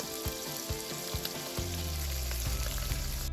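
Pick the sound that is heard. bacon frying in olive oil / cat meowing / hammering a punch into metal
bacon frying in olive oil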